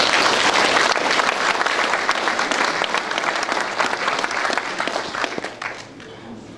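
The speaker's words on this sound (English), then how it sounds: "Please join me in applauding him." Close, loud applause fills an audience hall during the Cook Islands Prime Minister's speech, dense clapping from the start that gradually tapers and softens toward the end.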